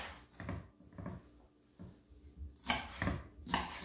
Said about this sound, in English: for starters, cut up my green onion